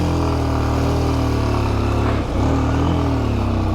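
A motorcycle engine drones steadily and close by, holding a strong, even tone for the whole stretch with only a brief dip midway, and no voices over it.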